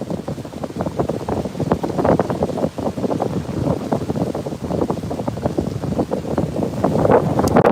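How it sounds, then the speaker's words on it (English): Strong wind at a Playa del Carmen beach roars loudly and steadily through mangroves, gusting and buffeting hard against the microphone with no voices. "this wind is really kicking. Whizzing through the mangrove behind me there"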